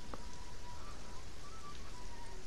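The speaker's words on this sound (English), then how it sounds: "Sounds like it's raining" Steady video game rain patters evenly across a surface, a constant wash of soft droplets with a faint tone underneath; no voices.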